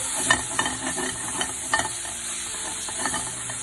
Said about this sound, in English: Now I need to give that a thorough mixing.